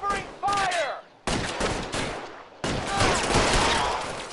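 Bursts of gunfire from the video game L.A. Noire, with several loud, dense volleys crowding one after another and people's voices mixed in.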